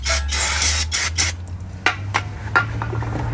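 Brake cleaner hisses from a spray can onto a Mazda CX-5 rear brake rotor in a few short bursts, close up and fairly loud, separated by brief pauses.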